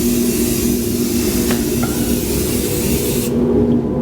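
A spray gun lays a final top coat of paint on the roll cage of a 1949 Chevrolet gasser. A loud, continuous close hiss runs throughout and then cuts off abruptly near the end.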